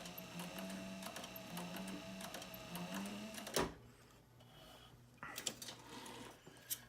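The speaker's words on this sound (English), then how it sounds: "Down to the end, we're going to back stitch a few." A sewing machine back stitches a dopp kit, rapid close mechanical stitching for about three and a half seconds, then a pause and a few short clicks and bursts.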